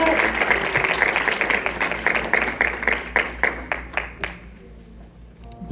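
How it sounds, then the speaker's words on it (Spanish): A church congregation gives loud applause during a Spanish-language evening service, with rapid dense clapping and some voices that gradually thin into a few scattered claps before stopping. "Dale un fuerte aplauso a Dios en esta noche y ponte de pie."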